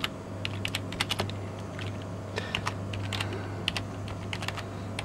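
Rapid typing on a computer keyboard while laying out a flyer, with uneven bursts of light key clicks over a steady low electrical hum, close and continuous without talk.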